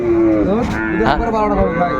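A cow with calf moos loudly and close at a busy village cattle market, one long drawn-out call with rising and falling pitch over steady crowd chatter.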